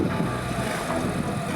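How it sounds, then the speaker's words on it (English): Audi S4 with a resonator-delete exhaust, a continuous loud mid-range exhaust drone under wind and road noise while driving, with no clear rev changes. "the resonator delete isn't exactly what I was looking for sound, but it's pretty good"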